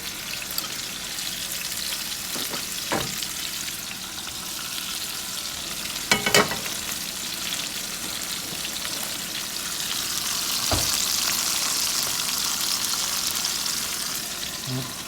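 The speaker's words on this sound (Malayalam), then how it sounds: "നമുക്ക് ആ സവോളയൊക്കെ ഒന്ന് വഴറ്റിയെടുക്കാം. സവോള, തക്കാളി, ഇഞ്ചിയൊക്കെ. ഞാൻ ഇച്ചിരി ഓയിലൂടെ ഒഴിച്ചു." Onion, tomato and ginger sauté in hot oil for a Kerala-style fish molee, giving a steady close sizzle with a few sharp spatula scrapes and clicks, and the frying hiss swells louder toward the end.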